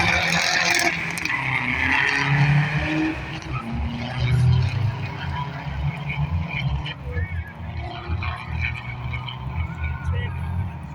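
Cars roar down a quarter-mile drag strip, engine noise loud and steady throughout with tyre squeal and people talking over the racket.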